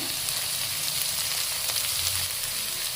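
Chopped vegetables for vegetable pulao fry in a pan with salt added, giving a steady, dense sizzle that runs unbroken and fairly close throughout.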